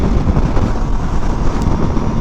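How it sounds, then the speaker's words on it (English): Heavy wind buffets the microphone in a constant low roar, like rushing air during a fast ride on an Aprilia RSV4 Factory motorcycle. "It's so windy."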